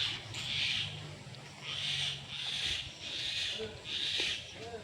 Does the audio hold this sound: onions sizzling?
no